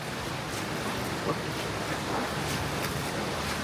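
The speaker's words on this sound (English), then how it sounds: "Waterfall! I can hear it!" A waterfall in a desert canyon at Capitol Reef gives a steady, broad rush of falling water that hisses evenly throughout, with some wind-like noise and no talking.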